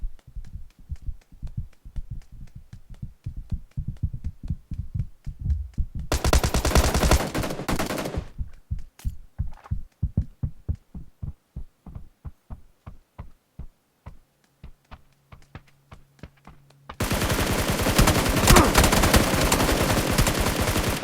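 Gunfire from the mobile shooter PUBG New State, rapid bursts of automatic shots in quick rhythmic succession with loud dense volleys at intervals, close and prominent with no talking.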